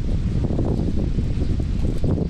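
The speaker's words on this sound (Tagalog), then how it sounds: "Mahangin dito." Steady wind off Manila Bay roars and buffets the microphone at the Cultural Center of the Philippines complex, a continuous low rumble with no pauses, loud and close.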